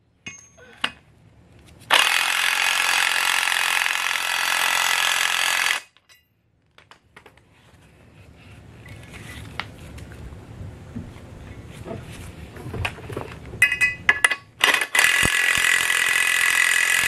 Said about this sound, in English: Put our lug nut.